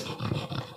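A dog gives a short, low growling pant, two rough bursts close by and fairly quiet, with no voices over it.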